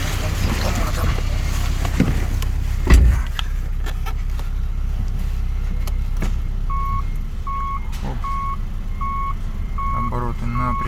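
Contract Subaru Legacy BL5 engine with automatic transmission and 4WD running on a test stand, a steady idle with revs rising and settling, while a regular electronic beep repeats in the background and people talk nearby.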